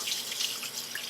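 Water streams from a tap into a sink while hands are washed, a close, steady splashing hiss that runs through the whole brief moment without speech.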